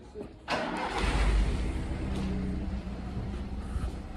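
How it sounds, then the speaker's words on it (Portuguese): A car engine is started with its starter motor: a brief click, then the engine catches and settles into a steady, moderately loud idle rumble. "dando a partida tá usando motor de arranque"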